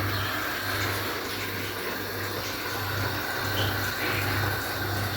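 Water runs steadily into a pot, a continuous close pouring hiss with a low hum underneath and no speech.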